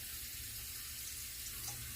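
Hot water runs steadily from a very hot spigot while jars are filled and covered for preserving cranberry sauce, a continuous splashing gush that stays even throughout with no talking.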